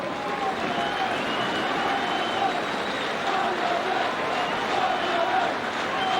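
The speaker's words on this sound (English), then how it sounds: "And the applause for Andy Mangan, who played his part in the goal" A football crowd at an FA Cup first-round match between Fleetwood Town and Wycombe applauds a substituted player, a steady distant wash of clapping and crowd noise heard under a commentator's voice.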